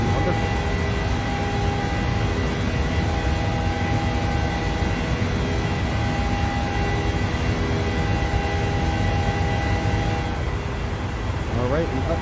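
Steady, loud engine roar of a PMDG Boeing 737-800 in Microsoft Flight Simulator climbing out after takeoff, a constant drone with a sustained tone throughout, close and unbroken.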